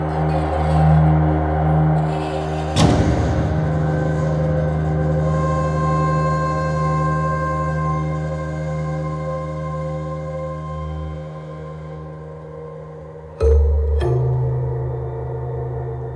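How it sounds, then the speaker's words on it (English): An Apprehension Engine horror instrument sustains eerie droning tones under a low rumble, broken by a sudden sharp scraping strike early on and another near the end; no voices. "The Apprehension Engine is an instrument that creates a variety of really creepy and some would say horrifying sounds."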